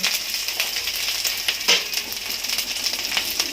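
A steady, close sizzle of fish curry frying in a pan, with hissing and bubbling throughout and a brief sharper crackle partway through, as if water has just hit the hot oil.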